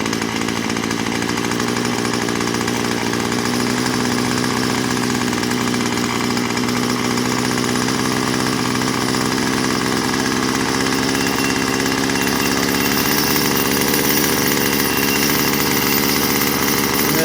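A Craftsman WS210 string trimmer's small two-stroke engine idles steadily and loudly after a carburetor low-speed screw adjustment, a continuous buzzing drone close by with no talk.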